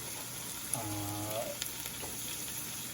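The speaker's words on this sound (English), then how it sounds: "just to get a little more fat in there to start frying with the butter, sauteing it really" Garlic and pearl onions frying in butter for coq au vin, a steady close sizzle with a brief stirring scrape partway through, no voices.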